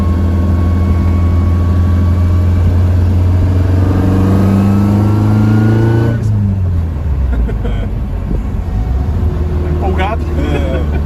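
BMW 320i E21 with a MoTeC M4 engine tune, its engine droning loud and close and climbing steadily in pitch before shifting and dropping back, with people talking over it.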